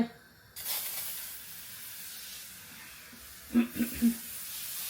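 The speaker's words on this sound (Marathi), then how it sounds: "गायज ती स्प्रे मारली" A chemical cleaning spray hisses out in a steady burst after a brief pause, followed by three short quick puffs near the end, close and fairly quiet.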